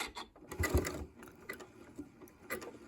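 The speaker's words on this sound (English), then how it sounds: "So you're just going to sew until the two stitches meet up." A sewing machine running a decorative top stitch on a quilt binding, with a quick, steady mechanical stitching chatter that is close and moderately loud, with no one talking.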